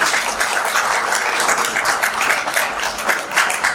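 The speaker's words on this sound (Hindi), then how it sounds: "सभी से आग्रह करूंगा कि एक बार जोरदार तालियां बजाएं अमित जी" A talk-show audience breaks into loud applause, many hands clapping in a dense, slightly uneven patter that swells and dips over a few seconds, close and energetic, with no voices on top.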